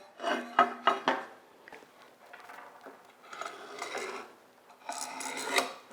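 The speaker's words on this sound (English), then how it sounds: "I'm going to just scratch a line, which is exactly 1 inch from the end." A line is scratched onto the rail of a homemade track dolly, one inch from the end, with several close, dry rasping scrape strokes in uneven bursts and short pauses, and no talking.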